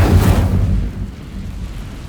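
A fire spell is cast in Hogwarts Legacy, bursting out as a loud, deep whoosh that peaks early and then fades into a rumbling roar.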